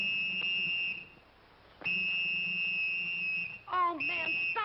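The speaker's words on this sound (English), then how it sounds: "Oh, man, stop blowing that whistle." Shrill whistle blown in long, steady blasts with a brief pause between them, followed by a quick warbling trill and another sustained blast, loud and close.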